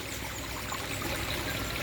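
Water flows steadily out of an L-shaped tube into the center canal of an aquaponic tilapia tank. It makes a continuous soft trickling, pouring stream, close and even, with no speech.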